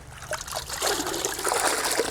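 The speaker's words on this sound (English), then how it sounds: "we're still filling up our pond with water" Water runs steadily into a backyard pond lined with rubber sheeting, a continuous close trickling and splashing stream with no voices.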